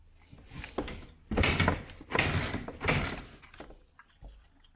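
An Aprilia ETX 125 motorcycle is kicked over several times, a few loud mechanical bursts of the kickstarter and the engine trying to catch, with brief pauses between attempts.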